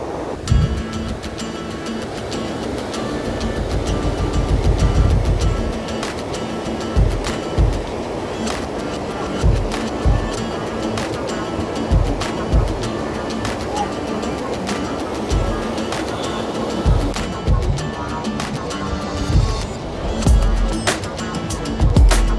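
A Himalayan river on the Har ki Doon trek rushes past in a dense, continuous roar, loud and close, with irregular thumps and knocks standing out above the steady flow.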